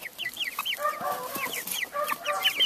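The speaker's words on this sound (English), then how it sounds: "Here's some of the poor chickens who were rescued from Brooklyn." Rescued chickens packed into a crowded container cluck and squawk over one another, a busy close chorus of rising calls and throaty clucks with no talk.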